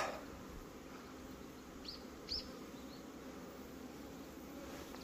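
Faint buzzing of hornets and honeybees in flight around a mite-damaged hive entrance, with a couple of brief, sharper wingbeat passes close by against a quiet outdoor background.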